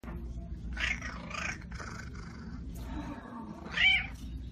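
A cat meows a few times, drawn-out and fairly close, with one sharper, louder meow near the end over a quiet background.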